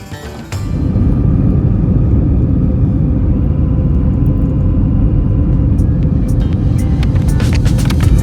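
An Air Astana Airbus A321LR's jet engines drone loudly from inside the economy cabin during departure, a heavy, steady low rumble that swells within the first second and holds, with faint clicks near the end.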